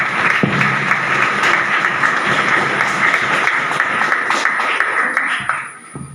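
Sustained applause from a school parliament gathering as a resolution against drug abuse is passed, dense steady clapping from many hands that fades out near the end.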